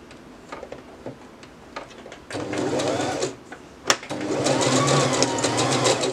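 Domestic sewing machine stitching along a garment side seam, close, with short bursts of rapid mechanical ticking that build into a steady whirring run.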